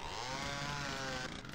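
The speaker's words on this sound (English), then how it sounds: "get out your chainsaw" A chainsaw from the video game Doom II revs in a steady, loud, continuous buzzing drone, with a slight dip in intensity near the end.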